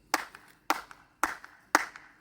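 Four evenly spaced hand claps among the Tikal Maya ruins, each sharp and close with a short ringing echo trailing after it.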